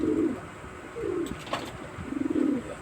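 Pigeons cooing in a home loft where squabs are kept, a few soft low rolling coos in separate bursts, fairly near with faint background noise and no talk.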